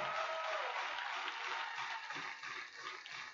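Spectators at a women's beach volleyball quarterfinal in Sochi applaud in a sustained wash of clapping, fairly distant and moderately loud, slowly thinning out with faint voices beneath.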